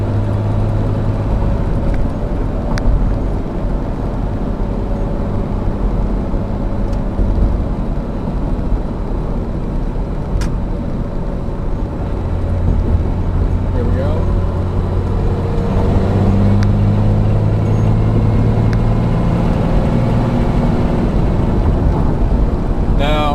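A 12-valve Cummins diesel truck engine with an open AFC profile rumbles loudly and steadily up close, and its pitch climbs as it revs harder in the second half.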